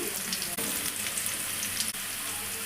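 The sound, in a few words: onions and liver frying in a pan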